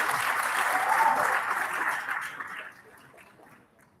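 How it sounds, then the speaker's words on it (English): An audience applauds at the national launch of a waste innovation challenge. A dense, even wash of clapping holds for about two seconds, then gradually dies away to near silence. "Can you give me a round of applause"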